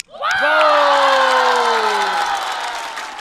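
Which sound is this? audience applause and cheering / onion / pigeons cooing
audience applause and cheering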